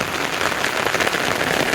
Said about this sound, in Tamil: தெரியுதுங்களா? நல்ல மழை.